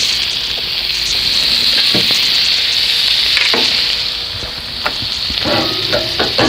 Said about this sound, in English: I'm just going to finish off the second little batch of shrimp. And sear those off as well.